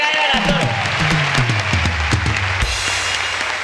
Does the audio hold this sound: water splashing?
no